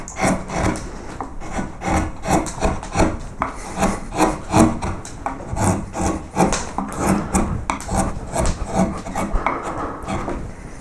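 A baseball cap shaped from wood is hand carved with rhythmic scraping and rasping strokes, about one per second. The strokes sound close and clear, with no talking.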